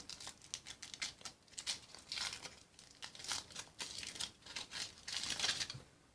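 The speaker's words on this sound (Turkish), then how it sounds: "ikinci sürpriz yumurtamızı şöyle yavaşça açalım" Plastic-foil wrapping on an Ozmo chocolate surprise egg is slowly peeled open, giving close, soft crinkling and light tearing rustles in irregular bursts with no voice.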